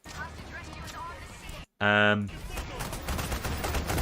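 Rapid gunfire rattles in Payday 3, a heist shooter, as bursts hit a heavily armored bulldozer enemy, with a sharp loud burst midway, while someone talks over the action.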